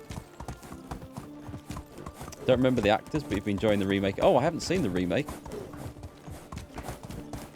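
A horse ridden in the game Medieval Dynasty clip-clops with steady hoofbeats under continuous conversation, the hooves fairly quiet beneath the voices.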